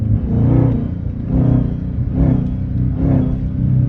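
A Dodge 392 Scat Pack fitted with a Hellcat engine swap accelerates hard in third gear, its loud, close rumble surging and easing in repeated waves roughly once a second from inside the car.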